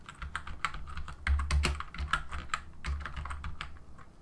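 Someone types on a computer keyboard, a quick uneven run of close, crisp key clicks with no talking.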